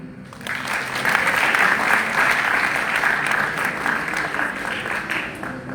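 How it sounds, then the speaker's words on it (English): A live audience at an annual temple prayer gathering breaks into sustained applause, dense and steady clapping that swells early and holds for several seconds at full strength. "she deserves a bigger round of applause"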